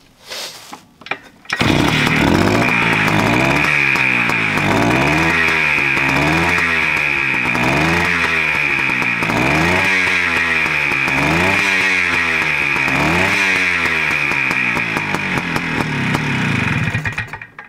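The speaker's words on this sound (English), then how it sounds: "Gets me fired up like the sound of a two-stroke." A 1967 Montesa Scorpion two-stroke motorcycle kicks into life after a brief stutter, then holds a loud, close, steady idle with rhythmic blipping throttle swells for the rest of the clip, no voices.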